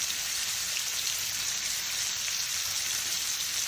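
Bacon frying in a pan, a continuous bright hiss and spitting crackle at close range, steady and loud with no voices over it.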